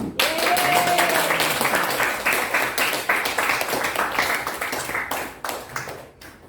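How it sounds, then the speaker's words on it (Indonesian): Applause from an audience at a school teachers' session in a hall, dense clapping that is loud at first and slowly thins out and fades, with a voice faintly audible near the start. "beri tepuk tangan yang meriah untuk Ibu Risa"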